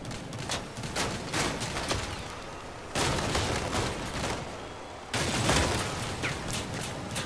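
Dense, continuous gunfire rages in the vehicle combat game Crossout, with overlapping rapid shots and bursts that swell louder in two abrupt steps. No one talks.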